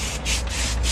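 Rhythmic scrubbing on a road bike frame to remove a sticker before repainting, three or four quick, close, raspy back-and-forth rubbing strokes with no talk.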